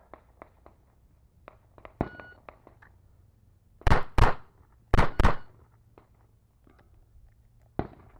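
Four loud handgun shots in two quick pairs, fired two-handed in freestyle range shooting, stand out mid-clip, with a last sharp shot near the end and faint clicks and thuds scattered between.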